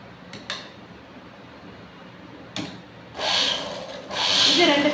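A sewing machine stitches fabric at a tailoring class, with a few brief clicks early on and then two short, loud whirring runs of stitching near the end.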